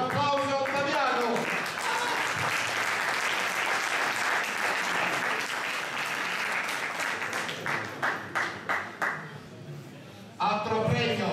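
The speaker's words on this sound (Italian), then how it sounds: "un applauso a Ottaviano" An audience at a race memorial award ceremony breaks into sustained applause. Speech is heard at the start and end, and the clapping thins into a few scattered claps before the voice returns.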